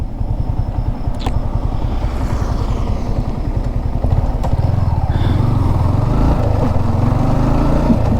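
A motorcycle engine drones steadily while the bike is ridden at night, loud and close throughout, with a constant throbbing exhaust note.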